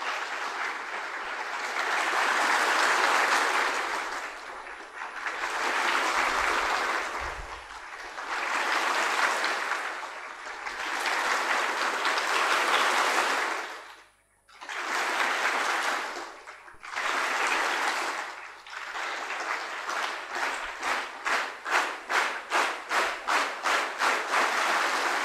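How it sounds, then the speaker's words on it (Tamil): A student audience at a motivational self-confidence talk claps continuously in long waves that swell and fade on cue, with one brief pause. It ends in fast, rhythmic, synchronized clapping, loud and close with no voices. "அடுத்து நீங்கள் தொடர்ச்சியாக கைதட்டல் செய்யுங்க"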